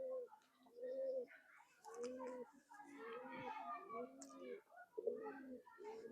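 Khulna Chot Madi pigeons coo in soft, repeated low throaty rolls nearby, with someone talking over them.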